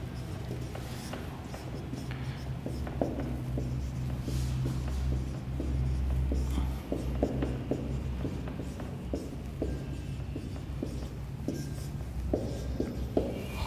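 Pen or marker writing out a math function for an integration-by-parts problem, a steady scratch of short strokes with a low hum running underneath throughout.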